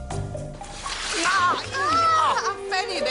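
A drink splashes onto a person in a comedy series, giving a brief wet slosh and splatter that is quickly followed by overlapping voices talking close by.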